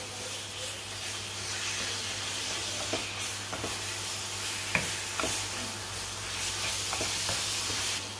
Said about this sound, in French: Je vais d'abord remettre les aubergines dans la poêle. J'ajoute un petit peu de sel et je mélange.